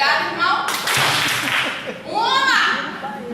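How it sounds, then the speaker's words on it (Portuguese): A church congregation bursts into a short round of applause, a roughly one-second wash of clapping amid lively voices and children's chatter before talk resumes. "Aí vocês vão dar uma salva de palmas"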